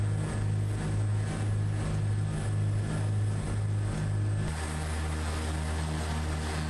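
Propeller-driven aircraft engine drone in Microsoft Flight Simulator 2024, a Cessna C337H Skymaster II twin-engine plane, a steady low pulsing hum that drops in pitch partway through, continuous and loud with no talk.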